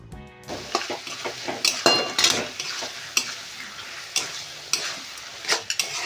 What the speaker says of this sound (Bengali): দিয়ে কচুর শাকের সাথে মাছের মাথাটা ভালো করে মেশাতে হবে।